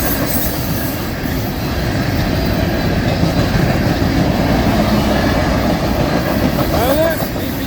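A CSX freight train rolls past at Folkston, Georgia in a loud, continuous rumble of wheels on rails with occasional faint squeals, steady throughout and close by.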